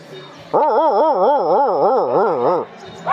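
A voice imitates a dog, producing one continuous wavering whimpering howl that wobbles up and down for about two seconds, loud and close, with quiet gaps before and after.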